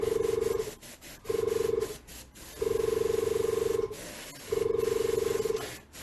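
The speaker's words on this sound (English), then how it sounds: "how is the volume of the airbrush? Is it literally like deafening and awful, or am I okay to airbrush on stream?" An airbrush spraying paint on a Warhammer 40,000 Tyranid Harpy miniature, heard as repeated bursts of hissing air with a steady tonal hum, four sprays of roughly one second each separated by short pauses, close and clear.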